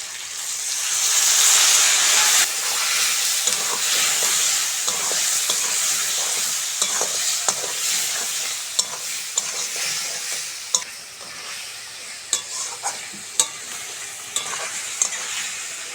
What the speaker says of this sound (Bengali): মশলা ভালো করে কষে নিয়েছি মশলা থেকে তেলও ছেড়ে দিয়েছে